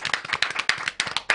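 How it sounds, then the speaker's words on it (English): A short burst of hand clapping from a small group, close and crisp, with uneven individual claps rather than a full roaring ovation. "give him a round of applause"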